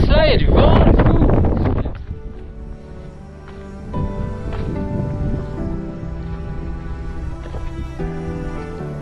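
Wind on a mountain in the Pyrenees buffets loudly for the first two seconds, then drops to a lower, rougher background while someone talks.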